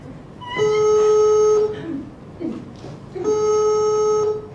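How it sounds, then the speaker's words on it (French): Telephone ringing over a speakerphone, two long electronic ring tones separated by a pause, with faint background noise in between. "Ça sonne!"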